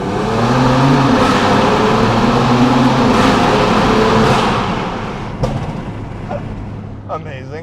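A BMW M4 engine revs hard inside a tunnel with a loud, booming roar that rises and falls, then fades as voices talk near the end.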